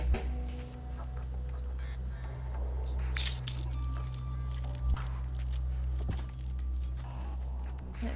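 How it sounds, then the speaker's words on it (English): Keys jangling in the video game Stray, heard as small scattered metallic jingles and clinks over a steady low game hum, with a few brief louder chinks. "these keys are really loud"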